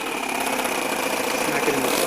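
Four-cylinder four-stroke nitro RC engine in a rat rod build idling with a steady, buzzy, even drone at close range, no talk over it.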